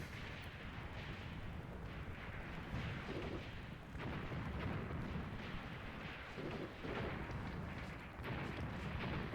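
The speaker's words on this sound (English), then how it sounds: "Is that my artillery support, or did we spot anything? No, it's artillery support." Artillery support fire in the game Graviteam Tactics during a Second Battle of Kharkov scenario: a continuous heavy rumble of booms and blasts rolls on for the whole stretch, dense and loud with no gaps and no talking.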